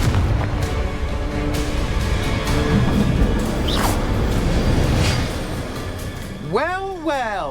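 Explosive spell blasts in Hogwarts Legacy boom and rumble continuously for several seconds as combat noise, with a voice shouting and a whooshing effect near the end.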